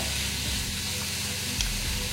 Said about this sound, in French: On va faire cuire la viande.